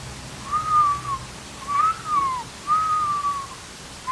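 Someone with missing front teeth whistles three long wavering notes separated by brief gaps, soft and close with no talking.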